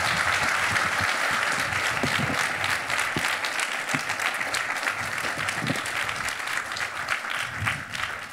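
Audience applause fills a book week talk with poet Tracy K. Smith, a steady, fairly loud clapping from a crowd that carries on without a break.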